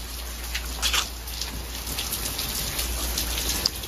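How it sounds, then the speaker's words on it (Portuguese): Steady rain falling and pattering on surfaces, a continuous hiss with a few louder drops, no voices. "olha essa chuva."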